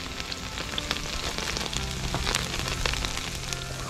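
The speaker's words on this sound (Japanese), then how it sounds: "で一回火をつけると揚げ焼きみたいになるね" Shallow-frying in oil on a well-seasoned iron griddle at a seaside campsite, a steady soft sizzle and crackle with scattered small pops, fairly quiet and uninterrupted.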